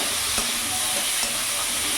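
Spiced silver carp curry base with garlic paste sautés in a pan as a steady, loud, close sizzle and hiss, with a faint spoon scrape or two underneath.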